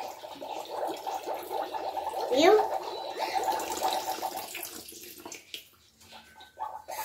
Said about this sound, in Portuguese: agora eu vou jogar essa água, pessoal, que tem que jogar água.